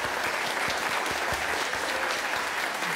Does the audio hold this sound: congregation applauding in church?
yes